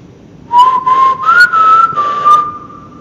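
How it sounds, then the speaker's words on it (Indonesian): A person whistles back in reply during a night dare inside a training center building: one clear, sustained whistled tone lasting about two seconds that wavers slightly in pitch, fairly loud and close, with no talking. "Sumpah dibalas siulan gua, dibalas."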